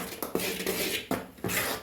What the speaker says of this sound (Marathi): त्याला छान असं फेटून घेते.